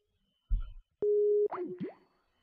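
A phone call drops after the other person hangs up: a soft thump, then a steady electronic beep and a couple of quick warbling blips, short and isolated against silence.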